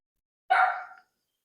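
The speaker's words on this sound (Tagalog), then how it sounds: "May aso." A dog gives a single sharp bark inside an abandoned school, one short burst from a moderate distance, with silence before and after.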